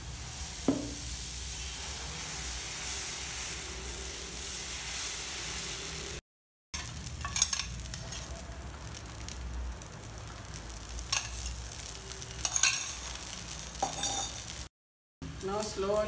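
A dosa cooks covered on a hot pan, giving a soft steady sizzle with occasional clinks of a lid or utensil and brief faint voices in the background.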